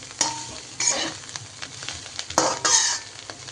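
Cauliflower pieces being stirred in a frying pan on low heat, with bursts of scraping and sizzle in two main clusters between quieter spitting; close and fairly loud, no talk.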